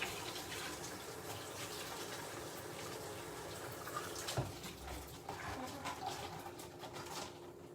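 Tap water runs into a kitchen sink as a cup is washed, a steady broadband splashing rush that continues without a break from start to end.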